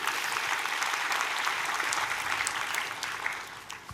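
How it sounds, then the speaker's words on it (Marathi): An audience at an award ceremony for a classical music honour applauds, with dense, sustained clapping held for a few seconds before easing slightly at the end, with no voices over it. "धनश्रीताईंसाठी एकदा जोरदार टाळ्यांचा गजर करूया."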